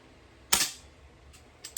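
A single airgun shot is fired indoors in a workshop at 10 meters, one sharp crisp crack followed by faint clicks.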